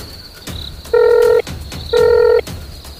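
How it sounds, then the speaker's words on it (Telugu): A phone dials out in a Telugu horror short film, giving clicky button presses and then two loud, steady tone bursts, each about half a second long, with brief noise between them and no talking. "ఫోన్ చేద్దాం."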